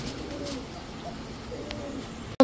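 Pigeons coo softly in low, throaty murmurs close by, steady and unhurried, ending with a brief sharp knock.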